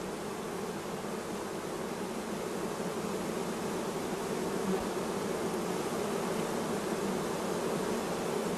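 Honey bees buzzing at beehive nuclei during colony requeening, a dense, steady drone of many insects, close and continuous with no voices.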